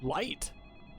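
A telephone rings in the video game Deadly Premonition: Origins, a brief bright ring burst under a man's nearby speech, the whole moment quiet and over in about a second.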